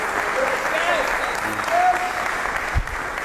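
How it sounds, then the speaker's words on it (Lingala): A concert audience at a 1999 event claps continuously and fairly loudly. Faint voices and a few thin whistle-like tones rise over the applause. "On va applaudir pour lui."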